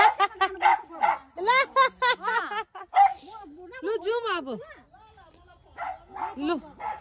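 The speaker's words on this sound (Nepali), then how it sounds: "ए भगवान यो कुकुरले त मारे त हौ कराएर" A dog barks repeatedly at night, loud and close, in quick runs of sharp barks with a few whiny yelps between, pausing briefly before another burst.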